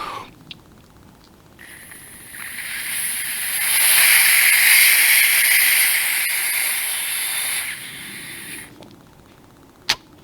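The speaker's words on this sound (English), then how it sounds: "if you blow through here and turn the valve, you can check to see if it is working" Air is blown through a valve on a 1972 Ford 4000 tractor, giving a breathy hiss that swells to a louder steady rush in the middle and then fades, heard close with no talking.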